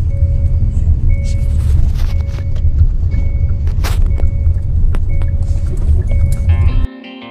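A car being driven, its engine and road noise a loud, steady low rumble throughout, with faint tonal beeps and chimes over it before the rumble cuts off near the end.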